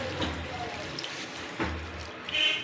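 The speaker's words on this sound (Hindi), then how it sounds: "मैं इसमें 2 कप पानी ऐड कर रही हूँ" Water from a cup pours into a pot of raw mangoes for a mint mango drink, a steady soft splashing stream with a few brief surges, close and fairly quiet.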